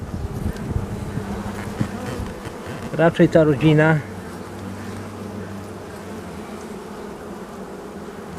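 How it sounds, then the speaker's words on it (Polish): Young, healthy honeybees from a bustling hive colony buzz in a steady, dense drone, with a louder, closer burst of buzzing for about a second in the middle, while someone speaks briefly. "No, młoda pszczoła, zdrowa."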